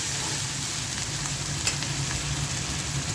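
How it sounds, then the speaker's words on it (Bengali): Shrimp frying with spices in a pan for chingri bhuna, a steady close sizzle with dense crackling spatter throughout and faint stirring scrapes, no voices. "এখন চিংড়ি মাছটা ভুনা করব।"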